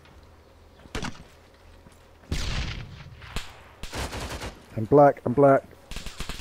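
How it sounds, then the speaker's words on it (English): Heavy gunfire from a BMP armored vehicle in Arma 3: sharp, loud bursts of shots spaced out over several seconds, with a brief spoken phrase and other voices in between. "BMP is firing on us from the left."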